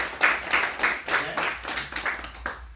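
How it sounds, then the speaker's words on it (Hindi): An audience at a seminar talk claps in unison, a quiet, evenly paced series of about nine sharp rhythmic claps heard from a short distance. "तो एक बार अतुल भाई के लिए जो है तालियां।"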